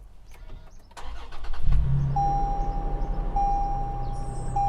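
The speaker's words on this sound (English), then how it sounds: "let's turn the car on so you can see it" A car engine cranks and catches during a Rexing V1 Gen 3 dashcam test, then settles into a steady rumbling idle while a thin electronic chime tone repeats over it; no one speaks.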